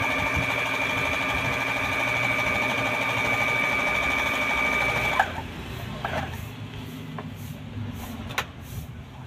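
A Brother domestic sewing machine stitches with a steady, close mechanical whir for about five seconds, then stops, leaving quieter clicks and small handling knocks.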